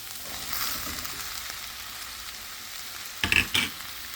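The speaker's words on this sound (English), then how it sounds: "tablespoon of butter and my chopped onions, and I'm going to saute those" Chopped onions sauté in butter with a soft, continuous sizzle, then a couple of louder clattering bursts near the end as the pan is stirred.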